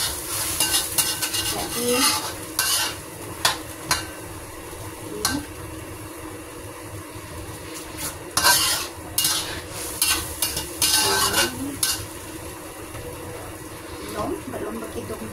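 Chicken in oyster sauce bubbles and fries in a pan while being turned, with repeated scraping and clinking of a utensil against the pan over a steady sizzle, and someone talking at intervals.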